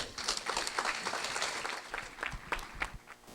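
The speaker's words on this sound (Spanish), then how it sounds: "para quien solicito un fuerte aplauso." Audience applause at the opening ceremony of a state psychologists' meeting, honoring a university rector: dense, steady clapping from a hall crowd, moderately loud throughout with individual claps standing out.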